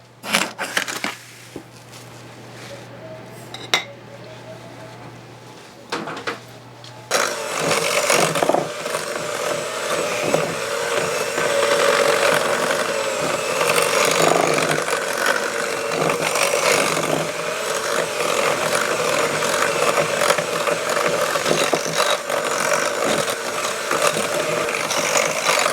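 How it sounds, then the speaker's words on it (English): Electric mixer beating butter and granulated sugar for a buttermilk pound cake, a few clunks and scrapes at first, then a loud, continuous whirring and churning that runs steadily close by. "I will beat this together again and get it super creamy, super fluffy"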